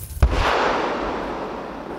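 A controlled detonation of a Kh-32 missile warhead, found near the border with Sumy region, goes off as one heavy boom, followed by a long rumbling roar of debris and soil settling outdoors.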